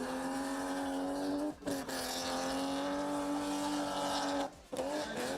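A drift car on an Indonesian qualifying run in the Southeast Asia Drift Series holds a loud, steady engine drone with tire noise, broken by two short dips where the throttle lifts before it roars back.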